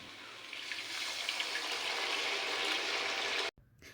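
Water is poured into a pan of fried rice while making Kashmiri pulao, a steady close splashing and hissing pour lasting about three and a half seconds before stopping abruptly.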